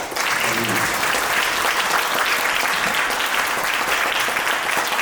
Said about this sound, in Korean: 장병, 뜨거운 박수로 한번.